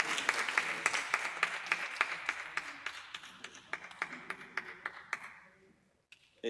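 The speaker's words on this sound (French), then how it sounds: "vos applaudissements ne sont pas à la hauteur" Modest audience applause at a round-table discussion on women's writing in Africa and the Caribbean: a quiet patter of individual claps that thins out and dies away, ending in near silence.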